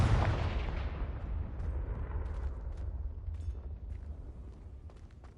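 A Confringo fire spell explodes in Hogwarts Legacy with a loud, deep blast that rolls and fades away over several seconds, and faint crackles trail through the decay.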